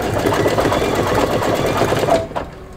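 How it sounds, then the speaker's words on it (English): Single-needle embroidery machine stitching, a loud close rapid mechanical rattle running steadily, then stopping abruptly near the end. "And I'm gonna back up about 20 stitches."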